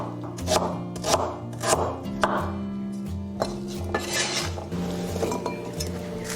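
A knife chops shallots, ginger and garlic on a board, a run of firm, fairly regular thuds up close, with a faint ringing hum lingering beneath and no talking.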